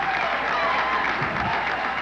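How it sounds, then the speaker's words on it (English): A campaign crowd in Kansas City cheers and applauds in a dense, steady roar of clapping and voices, with no single speaker standing out. "Before a cheering campaign crowd in Kansas City, President Reagan told the world Nick Daniloff was free"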